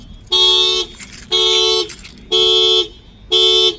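A Nissan Rogue factory car alarm blares in four evenly spaced, loud bursts of harsh honking tones, each lasting about half a second with short gaps between.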